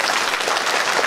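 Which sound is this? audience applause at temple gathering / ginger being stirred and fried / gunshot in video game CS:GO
audience applause at temple gathering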